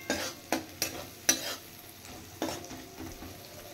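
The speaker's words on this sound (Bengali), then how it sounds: "আর বেশি ভাজবো না, জিরেটা পুড়ে গেলে তিতো হয়ে যাবে, তাই আমি হালকা ভেজে নিচ্ছি।" Cumin and turmeric lightly frying in a pan, with a few sharp spoon scrapes and stirring knocks over a faint, steady sizzle, close by.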